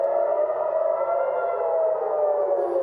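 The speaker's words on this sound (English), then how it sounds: "In Tel Aviv, air raid sirens signal another night of missile attacks from Iran." Air raid sirens wail steadily across Tel Aviv during a night of missile attacks from Iran, a sustained loud tone with slowly wavering pitch and no voices.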